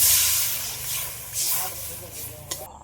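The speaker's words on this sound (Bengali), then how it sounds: "এবার আমি পরিমাণ মতন একটু জল দিয়ে দেবো" Water poured into hot, fried spice masala in a pan for a cauliflower biryani, giving a steady broadband hiss and sizzle that swells and eases over a few seconds, close and fairly loud.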